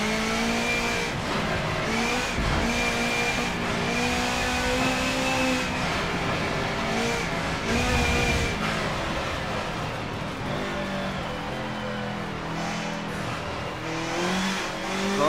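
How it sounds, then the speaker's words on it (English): A race car in Forza Motorsport 7 is pushed hard around a track, its engine loud and continuous, revs climbing and dropping through gear changes and corners, with no one talking. "I can push the car to its limits and still feel like I'm driving safely."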